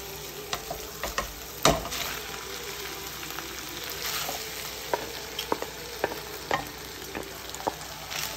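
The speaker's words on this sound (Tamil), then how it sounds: "உருளைக்கிழங்கை சேர்த்துட்டு இறாலையும் உருளைக்கிழங்கையும் நல்லா நம்ம கலந்து விட்டுருவோம்" Prawns and already boiled potatoes frying in a pan as a masala fry while being stirred, a steady close sizzle broken by regular spatula scrapes and knocks.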